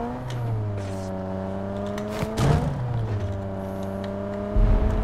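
A car engine in PUBG Mobile drones and revs steadily with shifting harmonic pitch, loud and close, with brief surges around the middle and end; no talking.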